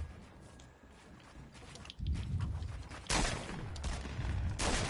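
Gunfire in a video game, bursts of shots and rattling fire coming in clusters over steady background game noise, with heavier volleys toward the end.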